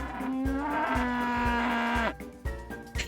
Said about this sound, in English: turn around at the sound of a loud cry when I catch the sight of a rampaging cow heading straight towards me at lightning speed